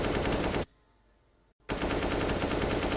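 Rapid automatic gunfire crackles loudly in a Counter-Strike match on the Vertigo map, an AK rifle firing in a dense burst, then a brief near-silent pause, then another sustained loud burst.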